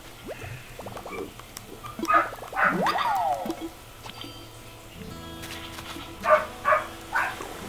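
A neighbour's dog barks in Animal Crossing: New Horizons, short tonal game yips coming in small clusters over a quiet background with soft chiming game music.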